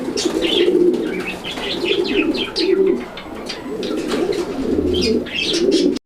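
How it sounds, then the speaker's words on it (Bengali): Fancy pigeons for sale in Bangladesh coo close by in repeated low, throaty rolling phrases, with faint chirps above and some fluttering toward the end. "এখানে একটা সিঙ্গেল কবুতর আছে দেখতে পাচ্ছেন"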